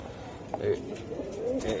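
Soft, low cooing of a Budapest pigeon repeats close by, with faint voices murmuring in the background at a pigeon sale.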